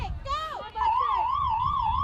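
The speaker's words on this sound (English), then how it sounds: "And there's the siren." A siren wails at a high school field hockey game between Durfee and New Bedford, a steady warbling tone that sounds loud and close and follows a brief rising and falling whoop.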